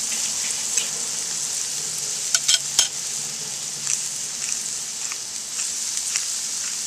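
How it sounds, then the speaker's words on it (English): A peppered cowboy steak sizzles steadily on a hot grill, a constant bright hiss close by, broken briefly by a few clicks and clatters as it is flipped; no one speaks. "I'm going to flip our steak over just to get pepper on the other side."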